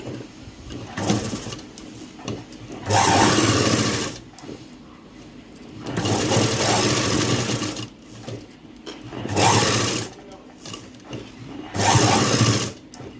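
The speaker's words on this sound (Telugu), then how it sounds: "ఏ విధంగా కుడతాను మిషన్ తోటి ఏ విధంగా కాజాలు వేసుకోవాలో చూపిస్తున్నాను" A sewing machine stitches buttonholes into a blouse, running in several loud bursts of whirring motor and needle with short pauses between them, no voices present.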